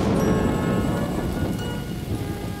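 Steady rain pours onto surfaces in a Carmen Sandiego video game, with a low roll of thunder rumbling underneath throughout the short stretch, fairly loud and with no voices.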